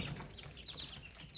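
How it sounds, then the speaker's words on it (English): Five young Ameraucana chickens cluck softly indoors, a few faint, short clucks and rustles close by with no one talking. "Here's our chickens."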